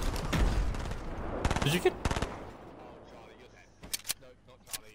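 Gunfire rings out in a Fortnite squad match: rapid shots clustered in a few sharp bursts, then scattered single cracks. Players' voices talk over and between the shooting.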